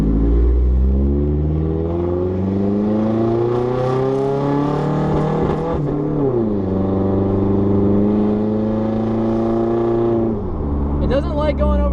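A race car engine revs hard and strains near 4000 RPM, its rising and falling harmonic drone loud and continuous throughout, with a brief sag midway and another near the end.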